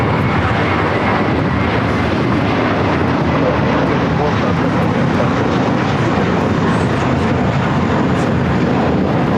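Two American Airlines Boeing Dreamliners at LAX, a loud continuous jet engine roar holding steady from start to finish, with someone talking over it.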